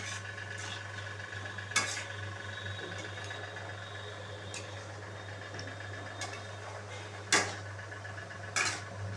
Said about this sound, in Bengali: ভালো করে সমস্ত মশলার সাথে আমি মিশিয়ে নিচ্ছি